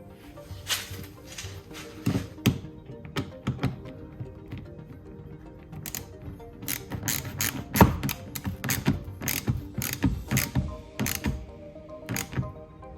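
Small clicks, taps and ratcheting knocks from fastening a mud guard on a Tesla Model 3, irregular and close, with a few sharper thumps. No talking.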